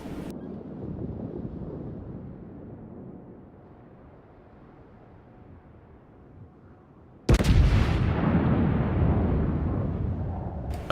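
Heavy battleship main guns of the Tirpitz fire in a naval combat video game, with one sudden massive boom and a long rumbling roar after a stretch of low wind-like noise.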